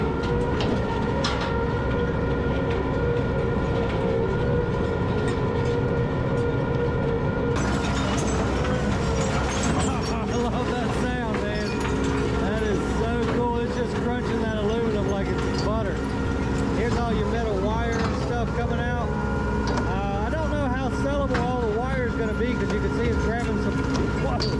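A Rotochopper shredder chews through average-size rubber tires, pulling chunks of rubber in with a dense, continuous industrial grinding and rumbling roar that runs loud and steady, with voices talking over it.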